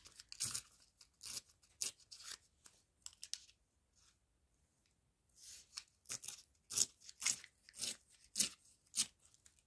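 Dry crinkling and crunching of window envelopes and coloured tissue paper in bursts, close and crisp, with a short quiet pause midway before the rustling resumes more loudly.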